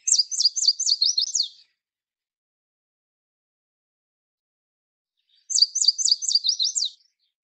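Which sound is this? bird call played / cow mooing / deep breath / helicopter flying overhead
bird call played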